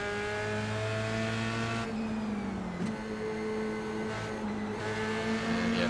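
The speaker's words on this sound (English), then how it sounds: "trying to be cautious while also hearing the other car behind" Race car engines drone in a racing video game at the Monza circuit. Steady tones hold and shift in pitch as another car follows close behind, with a brief squeal-like sweep in the middle. Moderately quiet throughout.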